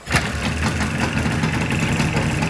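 A Jawa motorcycle engine catching on a start, a brief kick then a rough, loud, steady two-stroke idle with a knocking beat, close up and without talk.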